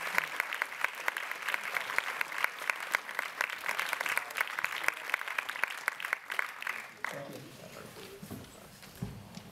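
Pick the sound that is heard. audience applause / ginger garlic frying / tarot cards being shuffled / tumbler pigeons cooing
audience applause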